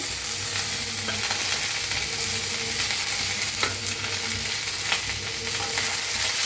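Green chillies and garlic roasting in oil in a pan, a loud, continuous sizzle and crackle with occasional scrapes of a spoon stirring, close up and without talk.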